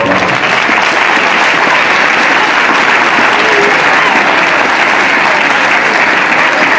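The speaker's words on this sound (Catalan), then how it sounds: "Un aplaudiment per la comissió." A crowd applauds a festival committee at the Three Kings' arrival in Callús, with dense, loud, steady clapping that fills the whole stretch without a break.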